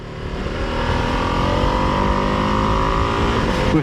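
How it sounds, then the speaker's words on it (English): A 2025 Ducati Streetfighter V2s motorcycle engine, set up for Euro 5 plus emissions with a catalytic converter under the bike, runs with a loud, steady, close drone that holds evenly throughout without any speech. "The engine noise is okay."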